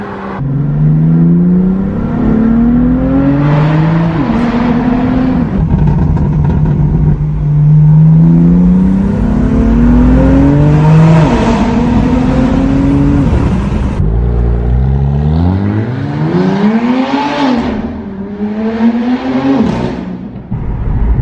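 A BMW M car with an equal-length mid pipe exhaust revs repeatedly, its engine note sweeping up and down in several loud, close, smooth pulls over about twenty seconds with no talking.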